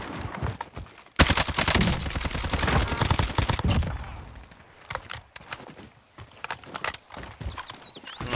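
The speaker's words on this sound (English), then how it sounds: "People shooting up to the right across from the big building" Rapid automatic gunfire in Call of Duty Cold War Warzone, an LC10 submachine gun chattering in dense bursts, loud and close at first, then thinning into scattered nearby and distant shots.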